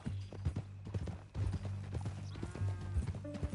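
Horse hooves clip-clop in a steady rhythm in Red Dead Redemption 2, close and clear over a low rumbling background hum, with brief voices breaking in here and there.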